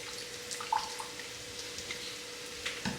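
Water poured into a salad dressing of apple cider vinegar, mustard, Worcestershire sauce and seasonings, a faint, soft trickle with small splashes against quiet room noise.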